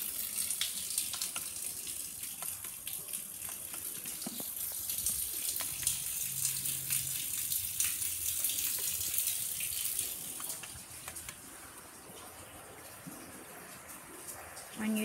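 Murky water running and splashing out of an outlet, a steady hissing gush that weakens toward the end, with faint talk underneath.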